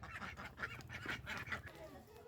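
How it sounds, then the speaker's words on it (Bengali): A flock of egg-laying ducks quacks and honks faintly in a rural garden setting, several overlapping calls forming a low, continuous chatter. "এই হাঁসের দল, এরা ডিম পাড়ে।"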